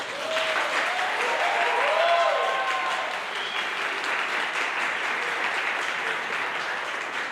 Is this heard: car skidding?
no